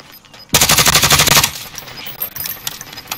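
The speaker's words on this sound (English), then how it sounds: "Looks like they're gunfire, yeah, over there to the left." A sudden, loud burst of rapid automatic gunfire lasting about a second, followed by scattered fainter shots and noise, in the video game Call of Duty: Modern Warfare Warzone.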